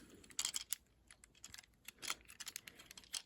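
Stiff plastic joints on a Transformers Legacy Armada Optimus Prime toy click in quick, irregular bursts as it is folded and transformed, close and fairly quiet with short gaps between the snaps.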